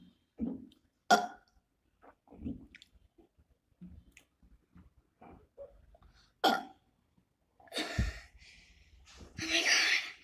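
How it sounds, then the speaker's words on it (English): A person forces a series of burps during a five-minute burping challenge, short scattered belches separated by pauses, ending with a couple of louder, longer, raspier ones close to the mic, with no talk. "I'm just gonna try doing the loudest burp that I can do"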